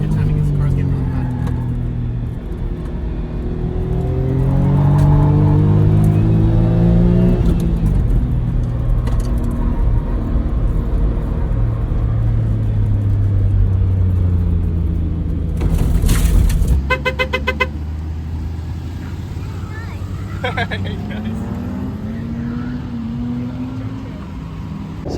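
A Daihatsu Mira kei car running on a race track, its small engine droning steadily up close with rising and falling pitch as it accelerates and shifts, with a voice talking over much of it.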